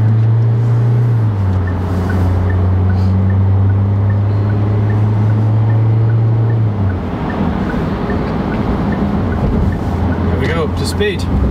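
SsangYong Musso pickup towing a car trailer accelerates hard onto a motorway, a loud steady engine drone rising in pitch with road and wind noise, people talking over it inside the cab.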